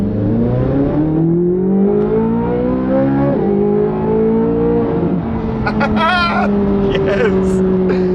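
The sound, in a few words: Corvette C8 Z06 670HP engine revving while driving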